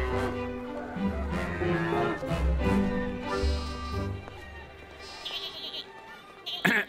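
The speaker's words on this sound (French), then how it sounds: "Regardez, il y a des moutons là-bas." Sheep bleating at a farm show, several wavering calls over a steady hum of background noise and some faint chatter, moderately loud and fairly close.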